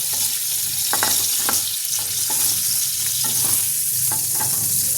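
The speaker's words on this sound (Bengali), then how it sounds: "পটলটা আমি ভেজে নেবো। একটু ঢাকা দিয়ে ভাজবো, তাহলে নরম হয়ে আসবে।" Pointed gourd (potol) pieces fry in oil in a pan, a loud continuous sizzle broken by regular clinks and scrapes of a spatula stirring.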